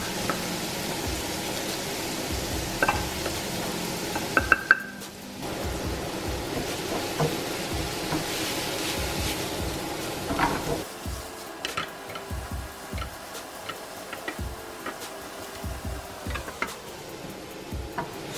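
White onion and garlic sautéing in a pan for a kipfler potato omelette, a continuous hiss of frying with scattered stirring clicks and scrapes, the sizzle thinning out partway through.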